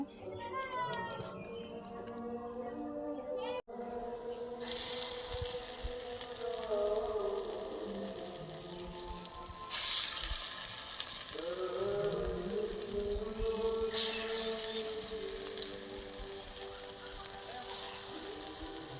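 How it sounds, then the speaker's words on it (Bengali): Steady sizzling hiss of shiuli (night jasmine) leaf fritters frying in hot oil runs under a voice and children's chatter, swelling louder partway through. "বড়াগুলো ভাজা হয়ে গিয়েছে"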